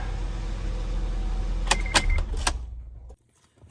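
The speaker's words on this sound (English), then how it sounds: "So car's on." A 2004–2008 Acura TL sits running after a starter relay repair, with a steady low engine rumble under a few sharp metallic clicks and jangles near the middle before the sound cuts out abruptly.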